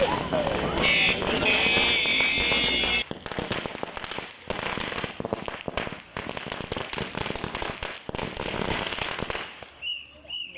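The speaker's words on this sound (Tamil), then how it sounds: "தீபாவளி மாதிரி மாற்றி மாற்றி மாற்றி பட்டை கொடுத்துட்டே இருக்காங்க" Firecrackers burst over and over at a crowded street celebration, with loud sharp cracks in irregular rapid volleys and a whistling rocket early on, while people talk and shout underneath.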